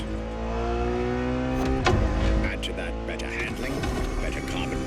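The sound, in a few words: Ferrari supercar engine in The Crew Motorfest video game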